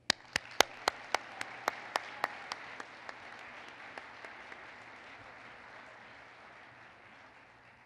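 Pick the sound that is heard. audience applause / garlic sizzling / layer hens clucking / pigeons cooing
audience applause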